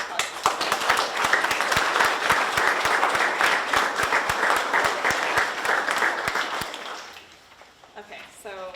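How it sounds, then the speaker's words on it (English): An audience at an architecture lecture claps steadily for a student research team, a full round of applause that fades out near the end before a voice begins speaking. "So huge round of applause"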